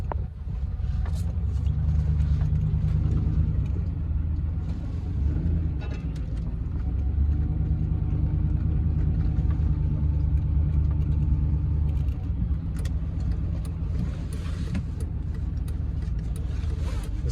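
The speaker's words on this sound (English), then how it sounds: "It's been sitting here idling." A truck with a 6.0 engine and an aftermarket cam idles continuously, giving off a deep, steady low rumble with a slightly uneven loping pulse and no talk over it.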